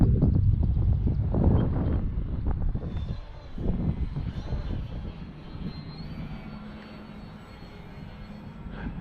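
A model V-22 Osprey aircraft in flight makes a fairly faint, distant engine hum with wind noise, louder during the first few seconds, then fading to a low steady drone.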